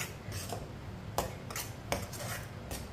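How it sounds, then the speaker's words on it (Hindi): A spoon clinks and scrapes against a pot while raw mango jam cooks over medium heat, a few distinct metallic knocks standing out over a low continuous background, with no voices. "इसे लाजमी चम्मच चलाते हुए पकाना।"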